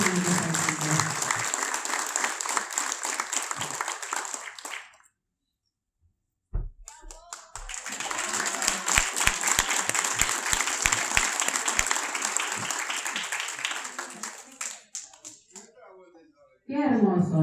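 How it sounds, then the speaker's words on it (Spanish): Audience applause fills a small-stage ceremony honouring community figures, a dense steady clapping that breaks off briefly mid-way and then swells again, loud and close, ending as a fresh burst begins. "así que por los aplausos."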